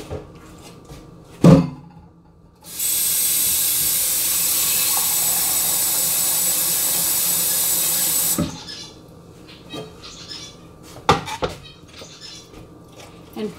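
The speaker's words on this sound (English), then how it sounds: "I'm going to have to cover this with water" Water runs from a tap into a pot of dry mixed beans for soaking, a steady loud rushing hiss lasting several seconds, framed by a few clanks and knocks of the pot before and after.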